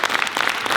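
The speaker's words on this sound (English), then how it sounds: "so give them a round of applause" An audience claps steadily throughout, with dense, even applause from a crowd at a community gathering, fairly close and loud.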